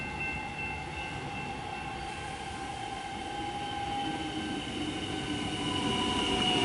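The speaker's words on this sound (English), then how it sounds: "Maybe another 3-car train." A Melbourne suburban train, a three-car set, pulls into Riversdale station with a steady rolling rumble and a faint high metallic whine, growing gradually louder as it nears.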